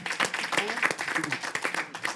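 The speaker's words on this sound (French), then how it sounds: "Je vous demande de l'applaudir encore plus fort" An audience at a song contest in Trinité claps in a scattered, moderate burst of applause, with a voice speaking over the clapping.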